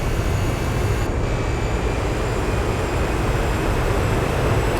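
In Gran Turismo 4, a car engine is held at full throttle, a loud, steady, dense roar that continues evenly throughout without breaks or voices.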